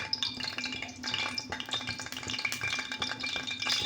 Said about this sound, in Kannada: ನಾನೊಂದು ನಾಲ್ಕು ಸ್ಪೂನಷ್ಟು ತುಪ್ಪ ಹಾಕ್ಕೊತಾಯಿದ್ದೀನಿ